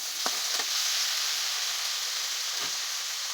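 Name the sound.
sautéing diced capsicum and onion in a pan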